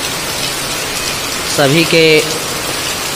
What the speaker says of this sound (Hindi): ये देखिए कितना बारिश हो रहा है